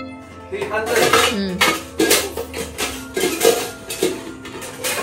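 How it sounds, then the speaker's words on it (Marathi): A steel cooking pot clanks and scrapes in a home kitchen, with repeated metallic knocks and rattles at close range, partly under voices talking. "ते स्टीलचं पातेलं घ्या की स्टीलचं पातेलं आहे"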